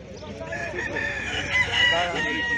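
A rooster crows repeatedly at an outdoor poultry market, its harsh cock-a-doodle-doo rising over a busy background of clucking fowl and faint market chatter.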